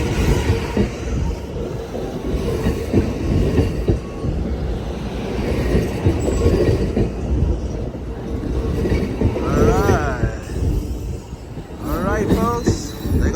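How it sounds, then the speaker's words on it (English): Amtrak Coast Starlight train number 14 arriving on track 1 at Emeryville station, a steady rumbling roll with wheel and brake squeals rising near the end, while people talk on the platform. "Coast Starlight, train number 14, now pulling in at the Emeryville station."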